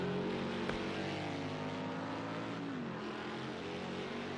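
Mustang Boss 302R race cars in Project CARS 2 at Donington Park, a steady engine drone with shifting tones and a sweep as revs change, loud and continuous without talk.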